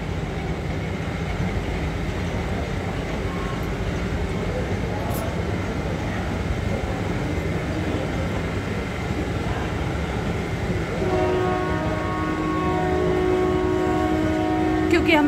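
A train at Jhansi railway station: a steady, loud rumble of rolling stock fills the platform, with a sustained tonal whine rising over it in the last few seconds.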